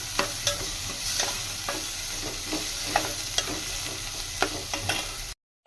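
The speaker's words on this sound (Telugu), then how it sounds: "ఇప్పుడు ఇందాక నేను కట్ చేసి పెట్టుకొని ఉన్న టమాటాలు కూడా వేసుకొని ఈ టమాటాలు కూడా కొంచెం మగ్గేదాకా అలా ఫ్రై చేసుకుందాం" Chopped tomatoes fry in a pan with ginger garlic paste for a village-style curry, a soft steady sizzle broken by scraping stirs, before a brief silence at the end.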